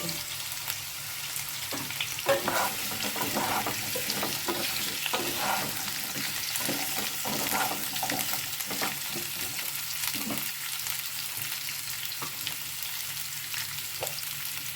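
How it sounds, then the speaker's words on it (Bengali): Potatoes and drumstick stalks fry in hot oil, a dense steady sizzle broken by repeated scraping stirs as they are turned in the pan, close and continuous. "আলুগুলো একটু নেড়ে নিয়েছি তেলে, এবার আমি ডাঁটাগুলো দিয়ে দেবো।"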